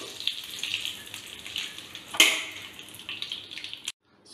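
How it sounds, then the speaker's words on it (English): Mustard seeds, dry red chilies and curry leaves sputter in hot oil for a tempering, a steady close sizzle with scattered pops and a sharper crackle midway before it cuts off. "So the mustard seeds are starting to splutter."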